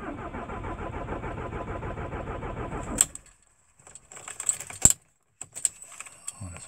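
A VW T4 van's diesel engine, started in cold weather, idles with a steady rhythmic chug, then cuts off; keys jangle and click in the quiet afterward.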